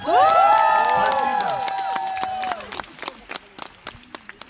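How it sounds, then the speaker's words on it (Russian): An audience at a lecithin product presentation breaks into loud whoops and cheering with clapping, then the cheers stop and a few scattered, fading claps trail off. "Че так тихо хлопаете?"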